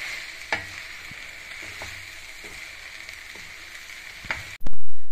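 Tomato rice being stirred in a pan, with a steady sizzle and a few scraping knocks of the spoon before the sound cuts off sharply near the end.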